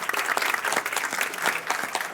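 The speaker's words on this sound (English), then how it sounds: "thanks for the speakers, of course, maybe a little applause." An audience applauds the speakers at a rooftop event, many hands clapping in a brisk, fairly loud patter with distinct individual claps audible throughout the short burst.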